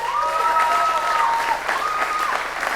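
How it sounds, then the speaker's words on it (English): Audience applause fills a school concert hall during a live show, a dense, steady wash of clapping throughout, with a thin sustained tone ringing above it and fading slightly near the end. "Lots of applause."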